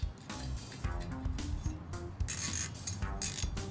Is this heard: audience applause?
no